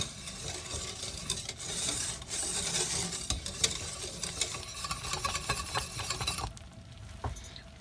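Red velvet fudge mixture held at a low boil in a pot, giving a steady dense bubbling and crackling close by that runs continuously, then thins out and quiets near the end.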